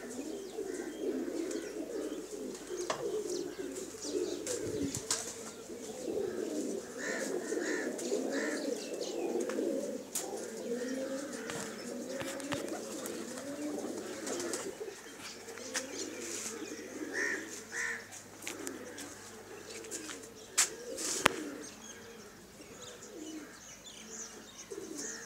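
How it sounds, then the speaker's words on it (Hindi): A flock of pigeons, many flying in the sky, coo softly and continuously in a murmuring chorus, mixed with occasional chirps, wing flutters and light clicks from the surroundings. "बहुत से कबूतर उड़े हुए हैं जो आसमान में बांध हैं"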